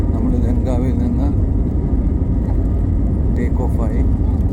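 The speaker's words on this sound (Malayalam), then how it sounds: "ഈ ഫ്ലൈറ്റ് മൂവ് ചെയ്യാൻ തുടങ്ങി." A passenger airplane's engines rumble steadily from inside the cabin as the plane begins to move after another flight has landed, a loud constant drone with voices murmuring over it.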